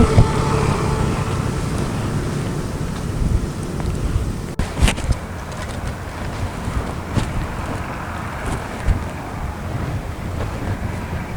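Strong wind blasts across the microphone at an open outdoor garden park in Carmona, Cavite, roaring steadily and loud throughout with gusty rumbling buffets and no talking.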